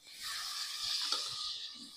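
Sliced tomatoes drop into masala frying in a pressure cooker, giving a steady close sizzle with soft stirring scrapes and no talk.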